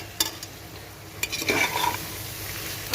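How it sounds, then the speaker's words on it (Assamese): Potatoes drop into a pan of mutton cooking on the stove, making a brief clatter followed by a short burst of sizzling that quickly settles into a low background hiss. "এতিয়া এইখিনি আলুখিনি দি দিম"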